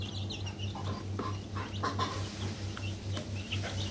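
Week-old chicks in a coop, waiting on their first Ranikhet disease vaccine dose, peep and cluck in a busy, continuous chorus over a steady low hum.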